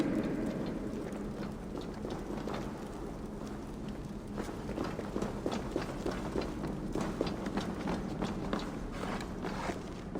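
Steady rhythmic footsteps in the video game Assassin's Creed Valhalla thudding over a low rumbling background, continuous and fairly even, growing slightly more distinct as they go on; no speech.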